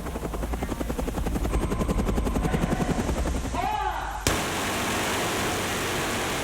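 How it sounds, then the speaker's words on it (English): A loud helicopter roars close by with steady rotor thumping, then the sound cuts abruptly to a constant, even rushing noise. "to fly a helicopter down the front of a building"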